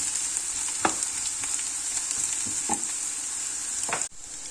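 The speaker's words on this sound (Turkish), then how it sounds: "Şimdi bunu biraz kızaracak soğanla." Steady oil sizzling from onion frying in a pan, with occasional stirring clicks and scrapes, close by and without talk.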